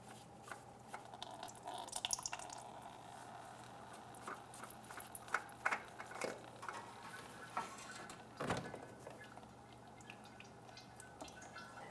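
Old engine oil draining from a 2012-2018 Nissan Altima into a catch basin, heard as faint irregular drips and trickling, quiet and close, with no talking.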